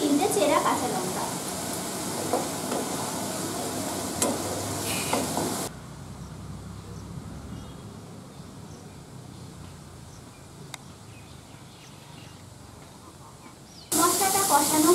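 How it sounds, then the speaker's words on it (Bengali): Spice masala for egg curry fries in a pan with a little water and slit green chillies, making a close sizzle and stir scrape that drops to a quieter hiss midway and then surges loud again near the end. "এবার আমি মশলাটা ভালো করে কষিয়ে নেব।"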